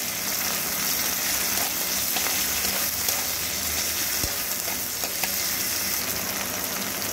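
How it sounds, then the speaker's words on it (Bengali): Chopped tomato and a green chilli fry with onion and garlic in a pan, a loud steady sizzle with occasional stirring clicks, close and continuous, no voices. "খুব ভালো করে এর সঙ্গে মিশিয়ে একটু কষিয়ে নেব"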